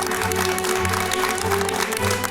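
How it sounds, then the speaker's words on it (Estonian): An audience at the Noor Meister 2024 furniture-joinery competition claps steadily for the newly named young master, a dense unbroken patter of applause under a low droning hum. "palun eriti suur aplaus uuele noorele meistrile"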